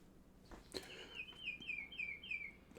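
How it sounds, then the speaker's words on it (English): Bird clock chiming a recorded bird song indoors, a faint run of descending chirping whistles repeating in a quick sequence after a soft click, heard at low level in a quiet room without talk. "I know you can hear the bird clock."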